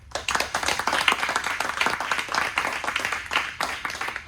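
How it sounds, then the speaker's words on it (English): A room full of people applauds in honor of Jim at a Rotary-style service celebration, dense steady clapping sustained evenly throughout, close and fairly loud. "I think we should all give a round of applause"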